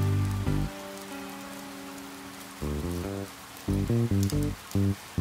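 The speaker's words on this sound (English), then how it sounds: "it was raining." Rain falls steadily in the Ghost Trick video game, a continuous wash of drops running under loud, sustained musical tones that swell in and out.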